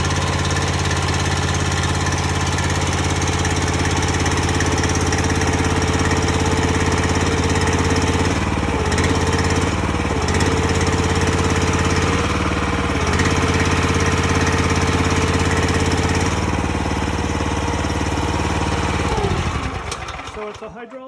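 The hydraulic motor of a horizontal well drilling rig runs loud and steady, a dense mechanical drone with a few brief shifts in load, before winding down at the end.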